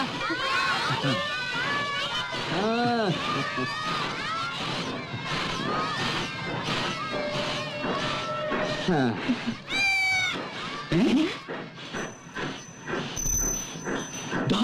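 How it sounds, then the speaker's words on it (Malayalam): A cat meows repeatedly, drawn-out rising and falling cries close by, mixed with people talking and other voices around it. "പൂച്ച."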